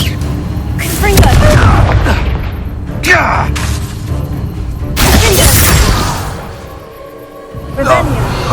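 Confringo explosive spell in the video game Hogwarts Legacy, several loud booming blasts with crackling bursts spread across the clip, separated by quieter stretches.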